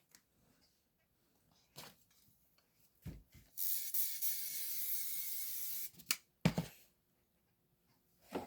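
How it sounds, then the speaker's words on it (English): A continuous hissing spray from an aerosol can, applied to the back of quilt fabric, lasts about two seconds, bracketed by clicks and handling knocks in an otherwise quiet room. "I'm going to give these both a shot of spray to the back."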